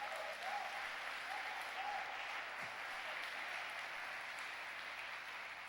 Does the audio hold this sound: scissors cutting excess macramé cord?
no